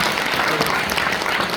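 Audience applause at a church men's fellowship leadership training and worship service, a dense, steady wash of many hands clapping at once, loud and close, filling the whole moment.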